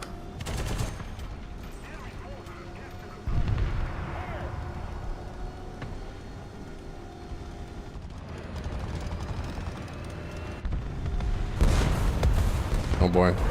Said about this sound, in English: Oh boy, driving into an artillery strike